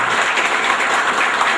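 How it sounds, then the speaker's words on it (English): A brief, loud burst of audience clapping at a school get-together, dense and even from start to finish. "big applause."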